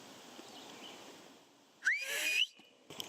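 A person gives a single sharp, rising whistle to call a dog outdoors, loud and close after a stretch of quiet ambience, sliding upward and then holding briefly.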